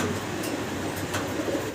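White fancy pigeons, a pair of the big shaking breed, give soft low cooing over a dense background hum, close and continuous, with no voices.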